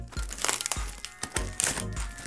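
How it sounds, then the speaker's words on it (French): A boxed fake iPhone 12 Pro bought online is unboxed, producing close, crisp crinkles and crackles of packaging in several quick, irregular bursts over a couple of seconds. "on va tout de suite déballer cet iPhone 12 Pro acheté sur Wish"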